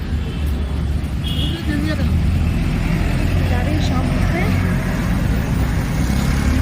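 Busy main road in Delhi in winter, with a constant low rumble of passing cars and other vehicles close by throughout, under a person talking nearby.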